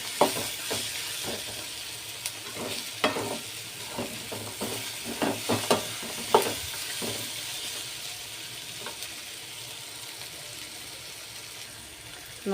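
Chili powder frying in oil with a soft steady sizzle, broken by a series of irregular spoon scrapes and taps against the pan, close but fairly quiet.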